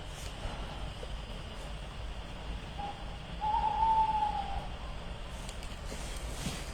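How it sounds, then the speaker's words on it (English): A single drawn-out owl hoot rises in the distance at night in the South Downs, soft and tonal against a quiet outdoor hush. "we can hear the owls"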